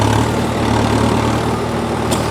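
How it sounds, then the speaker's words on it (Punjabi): A tractor pulling a disc harrow turns at the edge of a field, its diesel engine droning low and steady close by throughout, with no break in the rumble. "ਇੱਥੇ ਵੀ ਅਸੀਂ ਟਰੈਕਟਰ ਥੋੜਾ ਉੱਤੋਂ ਮੋੜ ਲੈਣਾ"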